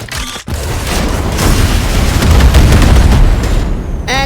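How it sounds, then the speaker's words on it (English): Missiles explode in The Strongest Battlegrounds, a Roblox fighting game, as one loud, sustained roaring blast rumbles on for several seconds. It stays up close and dense, then cuts off abruptly into a short whooshing tail. "Anyways, the fourth one is missiles."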